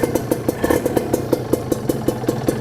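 A Kawasaki Serpico motorcycle engine idles close by with a steady, even putter of quick regular pulses and no voices over it.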